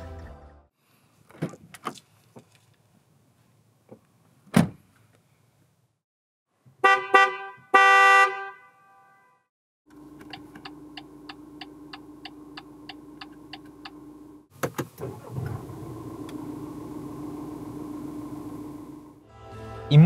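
Assorted sounds from a 2019 BMW X2 xDrive20d diesel compact SUV play with pauses between them: clicks and thumps, a short horn-like tone, a steady electric hum, then a whirring motor.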